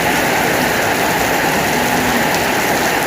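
Heavy rain pours down around a home at risk of flooding, a loud, dense, unbroken hiss of falling water that stays constant throughout, close and without any talking.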